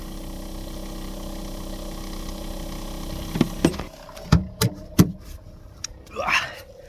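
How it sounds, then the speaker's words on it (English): A vacuum pump drones in a steady low hum while running for maple sap collection in the woods, then a few sharp knocks and a short burst of noise follow near the end. "Pump's running and building pressure."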